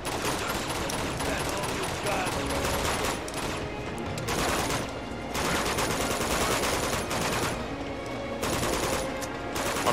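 Dense, sustained gunfire from Uncharted 2: Among Thieves, with overlapping rapid shots and bursts running continuously at loud, steady volume.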